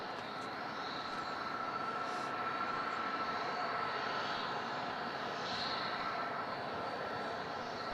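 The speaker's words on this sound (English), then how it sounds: "This is the ASL branded 4-burner." An ASL Airlines Boeing 747 four-engine freighter at Melbourne Airport at night gives off a steady, distant, broadband jet roar that barely changes in level, with a faint high engine whine over it.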